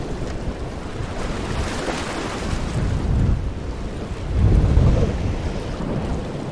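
Waves crash against the Dawlish sea wall along the railway toward Dawlish Warren, a continuous loud roar of surf and wind with two heavier surges as breakers hit.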